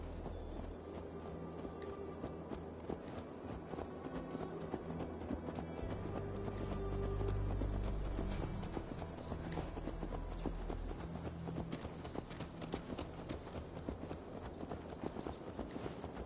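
Steady clip-clop of horse hooves trotting continuously in the video game Assassin's Creed Valhalla, over a constant background hum and music bed, with a faint whinny at one point.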